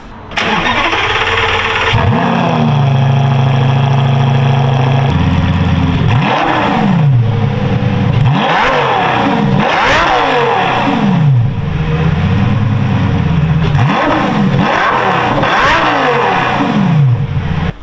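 A car engine with an aftermarket titanium exhaust cranks and catches, then revs repeatedly in rising and falling bursts, loud and close, with a raspy exhaust note throughout.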